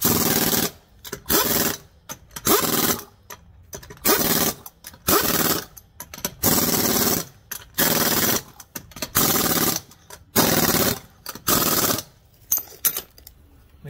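Impact wrench drives 19 mm lug nuts on a 2007 Buick Rendezvous wheel, loud rattling hammering bursts of about a second each, repeated a dozen times with short pauses between, close by.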